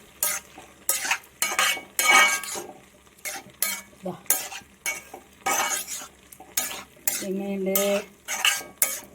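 A spoon stirs and scrapes Kerala prawn perattu in a pan, finished with coriander leaves and green curry leaves and flavoured with pepper and ginger. Repeated rhythmic clanking strokes sound up close, with a brief voice speaking partway through.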